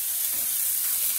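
Egg and chorizo sizzle steadily in a frying pan, a soft continuous hiss with faint crackle, close and alone with no talking.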